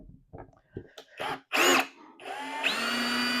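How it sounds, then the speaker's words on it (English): A power drill running in reverse whirs in short bursts, then runs steadily with a high, sustained motor whine; clicks and handling noises come first. "push that directional trigger from the left. That's going to change the rotation of the drill."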